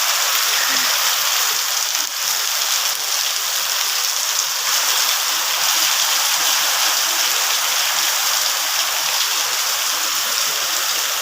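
Steady rain falls over a village, a dense, even hiss of water with no breaks, close and fairly loud, alone without voices.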